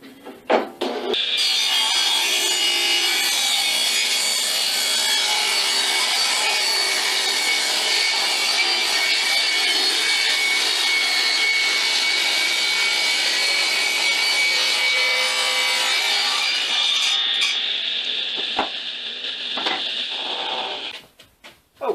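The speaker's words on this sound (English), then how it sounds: "I'm going to cut off 4 slices about 3/8 inch thick" Table saw ripping wood into thin slices about 3/8 inch thick, a loud continuous whining cut lasting around sixteen seconds, then the blade spinning down near the end.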